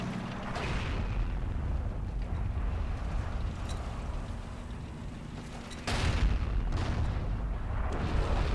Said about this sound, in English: That's how you throw nades.